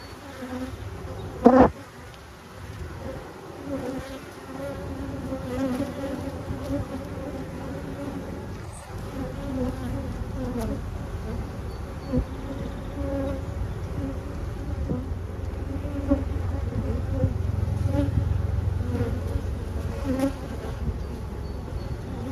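Steady, dense buzzing of a queenless honeybee colony in a split hive, droning continuously and close, with a brief louder knock near the start and swelling slightly toward the end.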